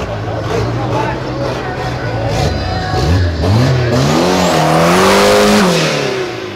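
A VW Gol 4x4's V6 engine revs loudly, pitch sweeping up and down through several throttle blips, with road noise and a voice talking underneath.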